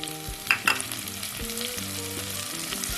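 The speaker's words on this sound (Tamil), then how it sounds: "வெங்காயம் நல்லா வதங்கட்டும். வெங்காயம் வதங்கின பிறகு கட் பண்ணி வச்சுருக்க தக்காளி சேர்த்துடலாம்." Onions and tomatoes sautéing in a pan for a capsicum masala curry: a steady close sizzle with quick scraping stirs of a spoon, no talking.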